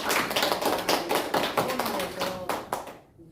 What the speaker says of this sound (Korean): 우리 뜨거운 환영의 박수를 해주시고.